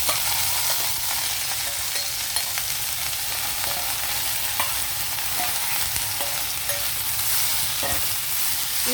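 Mint leaves fry in oil in a kadai for a mint chutney, giving a steady, even sizzle that holds at the same level throughout, with faint stirring clicks and no voices.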